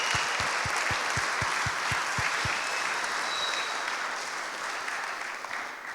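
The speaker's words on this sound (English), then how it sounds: "Can we give them a massive round of applause, please?" Audience applause at a horror game awards show, loud clapping that fades gradually, preceded by a brief run of regular low thumps.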